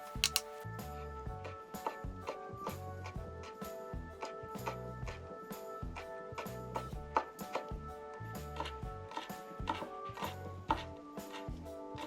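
A knife chops blanched squid legs on a cutting board with quick, regular taps at close range, heard under background music.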